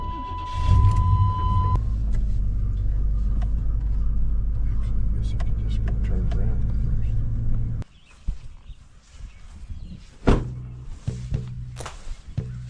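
A vehicle rumbles steadily at close range while moving a seed trailer on a farm during planting, then the engine noise drops away and a few thunks and knocks follow as people talk.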